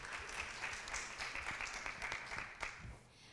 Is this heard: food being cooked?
no